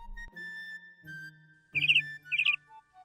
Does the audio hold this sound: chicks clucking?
no